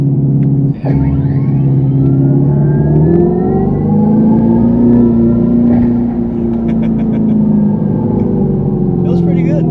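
Dodge Charger Scat Pack V8 engine accelerating hard, a loud steady rumble that climbs in pitch through the run, heard from inside the car with a faint voice in the background.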